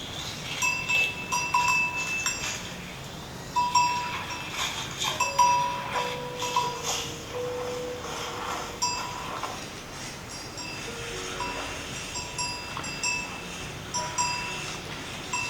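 Cowbell hanging on cattle grazing in a remote mountain village; faint, irregular clanks and tinkles come and go at a distance over a constant outdoor background.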